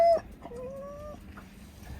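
A few short, nasal bird calls rise and waver over a quiet background, like gulls crying nearby.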